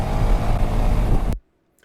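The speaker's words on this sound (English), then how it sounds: "Car driving at speed fails to see biker accelerate on highway." A motorcycle accelerating hard on a highway, engine roaring loud and close with rising revs and wind rush, then cutting off abruptly into near silence.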